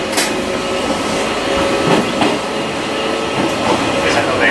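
Eizan Electric Railway train running toward Ichihara station, a steady close rumble of rolling cars with faint rail clicks and a quiet tonal hum throughout.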